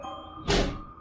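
A single muffled thump like a door knocking shut, brief and fairly close, over a low hum.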